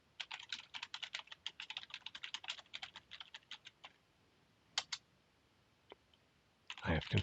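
A computer keyboard clatters with quick bursts of typing as an ifconfig command goes in on a networking setup, close and fairly quiet. The keys come in rapid clusters, then a few isolated presses, with a brief rustle at the end.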